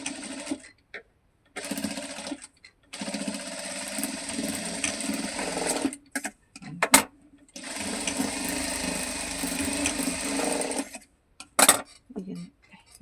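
A domestic sewing machine runs in several bursts while stitching a small pouch from a blouse piece, with short pauses between runs and a couple of sharp clicks near the end.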